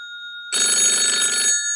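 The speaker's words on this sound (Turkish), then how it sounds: "Evet, bir telefonumuz yine var." A telephone bell rings for an incoming call during a Turkish request show, one loud burst of bright, rapidly pulsing ringing lasting about a second after a faint steady tone, with no voices.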